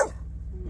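A dog at home gives a single short, sharp bark close by, quickly fading into low background hum.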